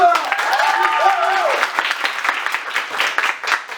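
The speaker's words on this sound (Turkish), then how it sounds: "ben alkışlayacağım sizi" Applause from a school audience at an Anadolu Imam Hatip high school event, mixed with voices and excited calls at first, then continuing as brisk clapping that thins toward the end.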